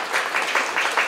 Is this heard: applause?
yes